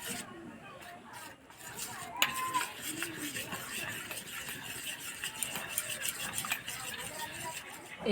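Ground rice paste being stirred into a little milk, with soft scraping and clinking of a spoon against a bowl running throughout, plus brief faint background noises.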